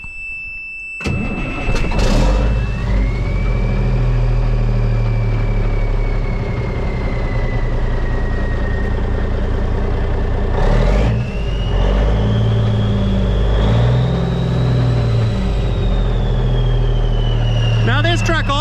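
An older truck engine cranks briefly and catches, then settles into a steady low idle rumble with a faint whine that drifts in pitch, with a few more bursts partway through and near the end.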